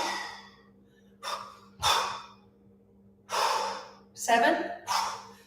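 Heavy, forceful breaths during a kettlebell long cycle workout in a steady rhythm: sharp inhales and exhales, about six of them, close up with a faint hum behind.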